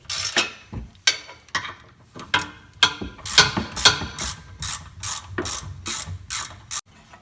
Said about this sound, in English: just throw them back in and tighten them back down.